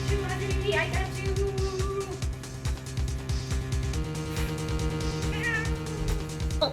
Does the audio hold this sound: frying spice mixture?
no